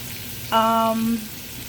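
Pepper steak frying in a pan keeps up a steady sizzling hiss the whole time, with a short tonal squeak rising over it near the middle.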